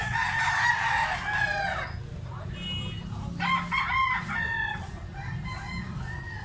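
Roosters brought from Uslob, Cebu crow loudly and repeatedly up close, with clucking and other farm noise between the calls.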